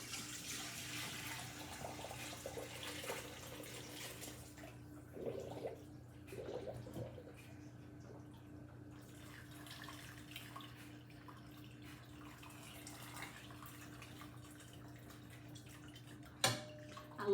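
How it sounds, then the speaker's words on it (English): Homemade chicken broth pours through a strainer in a kitchen, a steady liquid stream for several seconds that then stops, followed by quiet room tone and a brief clink near the end. "Now I'm gonna strain this broth because I don't want any of that stuff in my broth."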